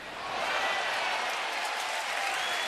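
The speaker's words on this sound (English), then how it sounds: "Crowd appreciates another good play." A crowd of nearly 34,000 at a Kansas City Royals at Baltimore Orioles baseball game applauds a good play, with steady, broad clapping and cheering that swells quickly and holds.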